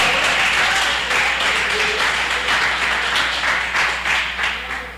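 A congregation at a church service applauds, a thick, sustained wash of clapping that stays loud throughout with a faint hum underneath.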